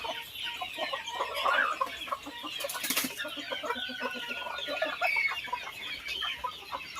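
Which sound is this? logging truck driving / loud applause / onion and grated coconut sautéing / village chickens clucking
village chickens clucking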